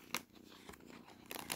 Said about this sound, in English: No, yes, you're purring now.